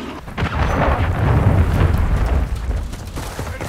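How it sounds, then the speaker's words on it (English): A cruise missile strike explodes in Call of Duty: Modern Warfare III as a loud, deep, rolling blast that rumbles steadily for a few seconds before easing off, with no voices. "Friendly cruise missile deployed."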